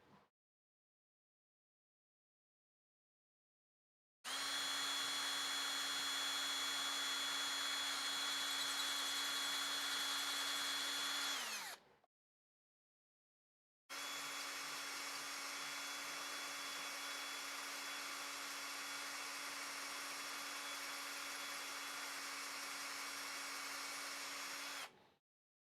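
A power drill whines at a steady high pitch for several seconds while drilling out threads with a worn bit, stops briefly, then runs again for a long, even stretch before cutting off.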